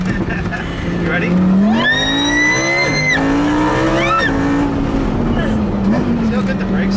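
A Lamborghini LP 610 on a driving-experience ride-along brakes hard: its engine note swoops up and then drops, with a brief tire squeal, all under continuous loud road and engine noise, while passengers exclaim.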